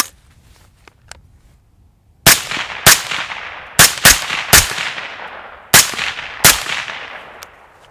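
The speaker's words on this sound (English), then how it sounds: "now we're gonna shoot some shots with the ACOG here" Rifle fired through a Trijicon ACOG scope: a quick string of seven loud, sharp shots at uneven intervals, some nearly back to back, each with a short ringing decay, after a quiet opening.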